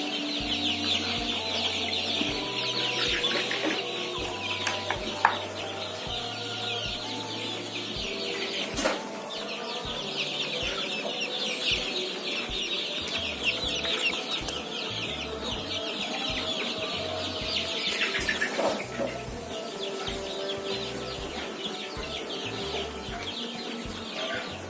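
Backyard chickens cluck and chatter together as they crowd around to be fed, a busy, continuous flock chorus close by with no talking.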